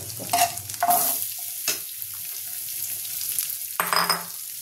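Potato filling for stuffed vegetable paratha stirred and frying in a pan, with a soft steady sizzle broken by a few louder scraping stirs near the start and end; no voices.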